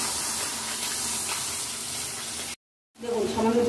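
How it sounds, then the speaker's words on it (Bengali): Spice paste for banana-flower and prawn curry is fried in a pan, a steady close sizzle that cuts out briefly to silence, then returns louder and rougher. "সব মশলা দেওয়া হয়ে গেলে একটু ভালো করে মশলাটা কষিয়ে নেবো।"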